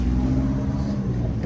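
A 1967 Ford Galaxie 500 XL convertible with a 428 four-barrel V8 runs with a steady, loud low rumble close by, the engine note holding even throughout with no pauses.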